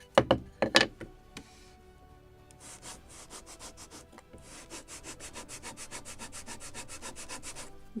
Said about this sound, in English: I need to sand more somewhere here